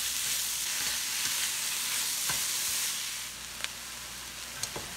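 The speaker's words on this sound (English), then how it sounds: "Now I'm going to give them all a stir." Cauliflower rice fries with a steady hiss in a hot pan as it gets stirred, with occasional scrapes and taps of the utensil, for keto bacon and egg fried rice; close and continuous, sizzle easing slightly partway, no talk.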